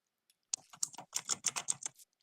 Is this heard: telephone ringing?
no